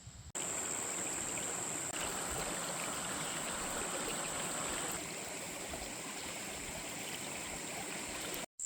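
Near a campsite, a waterfall and stream rush in a steady, broad flow, loud and constant, with a high hiss running on top and nothing else breaking through.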